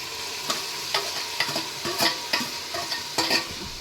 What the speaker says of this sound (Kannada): 4 ಟೊಮೆಟೊನ ಹಾಕ್ತಾ ಇದ್ದೀನಿ.